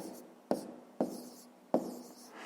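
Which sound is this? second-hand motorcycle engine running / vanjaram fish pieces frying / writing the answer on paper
writing the answer on paper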